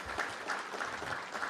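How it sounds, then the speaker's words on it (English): Brief, fairly faint applause for city administrator Rashad Young at a DC infrastructure academy launch, a crowd clapping steadily for a moment. "Please give him a big round of applause"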